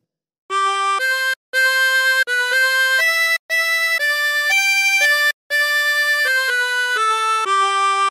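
A harmonica plays a slow melody from Hark the Herald Angels Sing, sustained reedy notes separated by brief gaps between breaths, loud and close with no talking.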